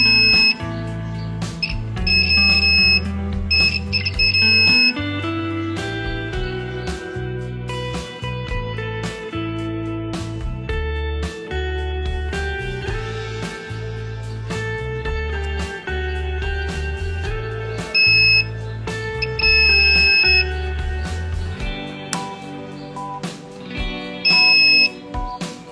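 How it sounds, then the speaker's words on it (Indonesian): Multimeter continuity buzzer testing the switch pins of a Polytron PSC 722 radio tape player, bright steady beeps sounding in repeated bursts over loud background music. "Coba ukur kondisi koneksi pin saklar dengan menggunakan buzzer"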